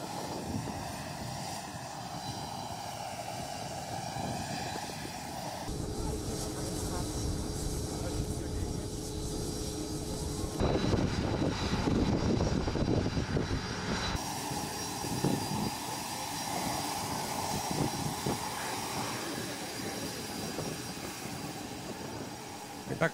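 An airplane arriving at Sukhum airport in Abkhazia during an opening ceremony produces a steady, loud engine roar that shifts in tone as it taxis close by, filling the whole stretch without a break.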